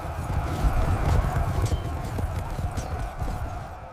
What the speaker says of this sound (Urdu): گھوڑے میدان میں دوڑنے لگے